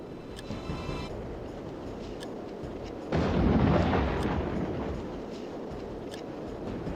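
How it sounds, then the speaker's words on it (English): A cannon fires in the video game Warhammer: Dark Omen. One loud booming blast lands midway through and fades over a couple of seconds, with battlefield ambience before and after and no speech. "It's a wonderful life just watching a cannon fire away"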